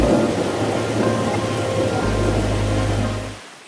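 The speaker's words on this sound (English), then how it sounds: "It won't stop raining." Steady rain pouring down during flooding near the Waccamaw River in the Myrtle Beach area, a constant close hiss with a deep low rumble that swells midway and cuts off at the end.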